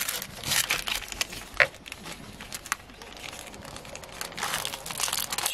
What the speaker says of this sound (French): il faut que je les remette absolument dans les plastiques